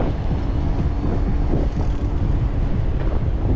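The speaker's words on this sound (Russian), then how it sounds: "Ветер, блин." Strong wind buffets the microphone outdoors on a January day in Sochi, a loud, continuous low roar and rumble with no talk over it.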